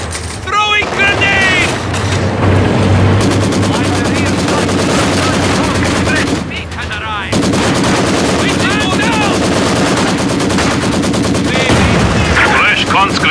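Company of Heroes 2 combat sounds: loud, dense bursts of rifle and machine-gun fire that continue throughout, with explosions and unit voice callouts mixed over the battle.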